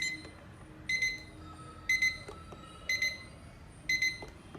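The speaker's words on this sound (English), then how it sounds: "the alarm is now on and ringing" A Tuelip digital alarm clock beeps in four short bursts, evenly spaced about a second apart, with quiet hum between them.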